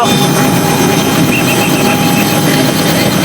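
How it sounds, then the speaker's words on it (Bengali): A helicopter engine runs at a steady, loud, constant roar and whine as it prepares to lift off, with no talk over it. "হেলিকপ্টারটি এখনই উঠবে"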